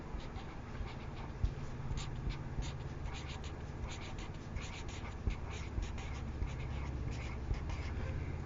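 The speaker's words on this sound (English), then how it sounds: "I pick up a pencil and write my name." A pencil scratches steadily on paper in close, repeated short strokes for several seconds over a constant low background noise, with a few faint knocks.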